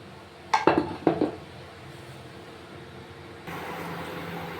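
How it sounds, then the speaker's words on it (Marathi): A kadai is set down on the stove to heat, giving a few sharp metallic clanks and scrapes close by, then a quieter steady background hum with no speech. "तर कढई ठेवायची तापायला"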